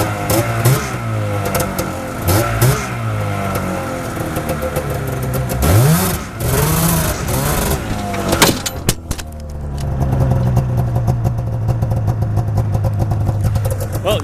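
A used snowmobile engine running with the choke on while warming up, loud and close, with rising and falling revs, a couple of sharp throttle sweeps midway, then a steadier high drone.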